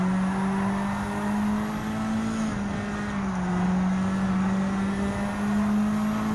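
A Lamborghini Huracan Gr.4 race car in Gran Turismo 7 at Suzuka, its engine holding a steady droning tone that dips slightly as it slows and then rises again, loud and continuous with no talking.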